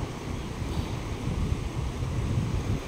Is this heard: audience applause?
no